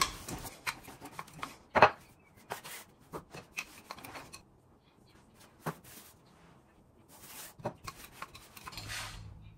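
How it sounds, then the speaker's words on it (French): Pizza dough is rolled out over semolina instead of flour, giving soft, close, irregular rubbing and gritty scraping strokes with small knocks in between, quiet and without speech. "je vais l'étaler avec de la semoule et non pas avec de la farine"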